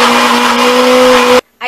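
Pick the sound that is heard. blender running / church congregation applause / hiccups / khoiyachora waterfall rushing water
blender running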